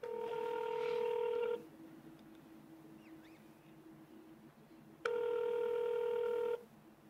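Telephone keypad tones from a phone call to a boxing and fitness gym: two long steady dialing tones sound loud and close, one at the start and one near the end, with a quiet gap of low line hiss between them and no talk.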